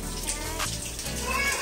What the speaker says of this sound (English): mommy taking a shower, okay?